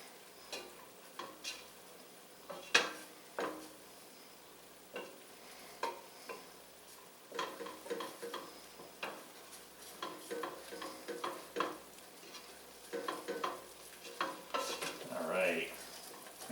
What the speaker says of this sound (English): Just want to stir flour for a minute to make sure we get the taste right